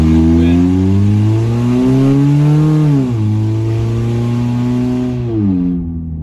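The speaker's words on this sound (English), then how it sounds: "As I'm sure you can hear in the background, the engine is rather loud," A Honda Accord engine with its catalytic converter missing sounds loud and raw. It revs in a steady drone, climbs and drops in pitch twice, then eases off near the end.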